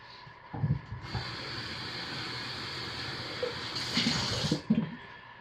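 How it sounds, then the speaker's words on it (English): Lye water is poured into soaping oils for a lingonberry spice cold process soap, giving a steady liquid trickle with a few louder splashy bursts near the start and end. "Carefully pouring the lye water into the oils."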